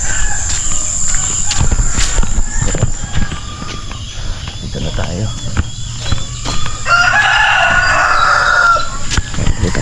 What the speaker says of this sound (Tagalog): Dito tayo nag-aalaga ng mga manok.